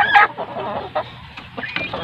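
A chicken suffering from fowl pox clucks up close, giving a few quick, loud, choppy clucks in a short burst with no talking.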